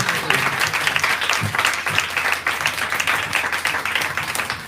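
Steady applause from a church congregation, dense clapping throughout at an even loudness, with faint voices mixed in.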